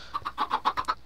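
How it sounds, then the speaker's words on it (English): Chickens clucking in the video game Sky Factory 2, a quick run of about seven short, evenly spaced clucks lasting around a second, moderately loud and close with no voices. "These chickens."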